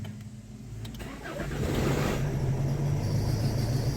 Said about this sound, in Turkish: Çalışıncaya kadar marş yapıyor.